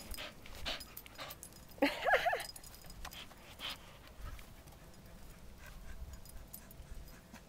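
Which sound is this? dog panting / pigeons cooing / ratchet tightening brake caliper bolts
dog panting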